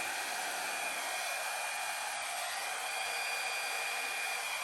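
A hair dryer blows paint across a canvas for a coral and turquoise blow-out painting, a steady, loud, even rush of air that holds without a break throughout.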